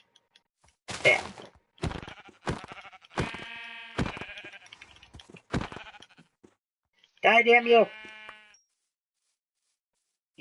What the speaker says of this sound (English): the reason I'm killing all these sheep is because they're planning something